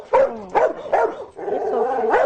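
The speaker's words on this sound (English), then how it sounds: "When you see Dr. Catherine Lafayette interacting with her 4 dogs, it's clear she loves them and they love her." Pit bull dogs barking loudly and close, about five harsh barks in quick succession with a whiny, yipping edge between them, and no voices.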